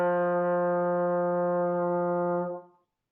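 A brass instrument holds a single warm, steady note for about two and a half seconds, then fades out cleanly, close and clear with no other sounds.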